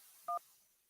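A single short telephone dialing tone, a clear dual-pitched DTMF beep lasting about a tenth of a second, sounds as a call connects on a radio show phone line, with faint background hiss around it.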